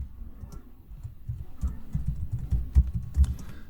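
Keys clatter on a computer keyboard in quick, irregular bursts of soft taps, with a few sharper clicks standing out. The typing is close and fairly quiet.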